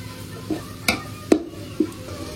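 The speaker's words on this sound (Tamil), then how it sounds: "ஒரு கிண்டு மசாலாலாம் ஒரு கிண்டு கிண்டுவோம்" Masala being stirred for Maggi noodles in a pan, a few separate scraping stirs with light clinks against a soft frying sizzle.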